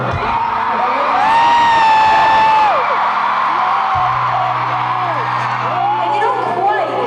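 A stadium crowd of about 55,000 at a live concert in Foxboro, Massachusetts, cheering and whooping in a loud, sustained roar with scattered shrill yells rising over the top.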